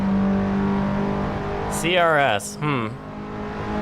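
A race car engine in a racing video game at Sebring, droning steadily, then revving high with rapid sweeping rises and falls as gears shift, with a voice talking over it.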